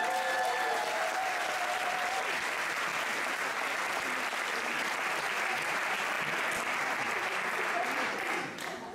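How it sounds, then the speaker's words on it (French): A thunderous ovation from a theatre audience in Geneva welcoming a stage performer, a dense, continuous roar of clapping that stays loud throughout before easing slightly at the very end. "Un tonnerre d'applaudissements pour Stéphane Leyshen."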